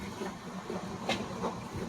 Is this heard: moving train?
yes